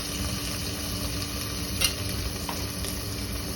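Ground cumin, turmeric and chilli powder with garlic frying in a pan for khichuri, a steady close sizzle with light stirring scrapes throughout.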